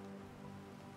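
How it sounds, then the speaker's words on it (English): Steady rain falls in the survival game Planet Crafter, a dense, even patter with no gaps, moderately quiet and heard on its own. "Rain again."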